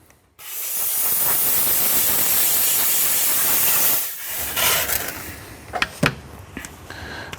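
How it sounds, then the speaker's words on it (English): A spray bottle mists cleaner onto the sun visor of a C7 Corvette. One long, loud, close hiss lasts about three and a half seconds, followed by a few short handling clicks and rustles. "Add a little bit of cleaner."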